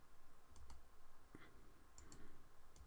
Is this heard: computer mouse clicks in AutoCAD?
yes